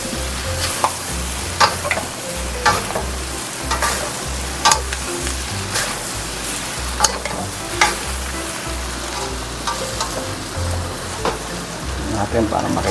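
Seafood chowmein noodles frying loudly in a pan, a strong continuous sizzle punctuated by repeated knocks and scrapes as the noodles are stirred, with a low pulsing hum underneath.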